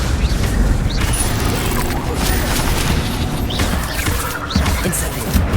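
The Levioso levitation spell cast in Hogwarts Legacy, set in the castle: loud, continuous rumbling game effects with whooshing swells and mechanical clatter, with no break.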